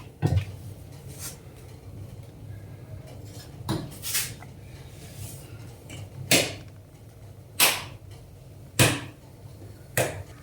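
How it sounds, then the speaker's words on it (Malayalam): A metal pan is set on the stove, clanking and knocking against it several times at irregular intervals, sharp and close, over a faint steady background hum. "ചട്ടി വയ്ക്കാം"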